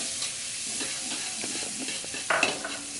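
Ingredients for crispy tofu in salted egg sauce are stir-fried in a hot pan, giving a steady close sizzle with scraping stirs throughout and a brief louder clatter near the end.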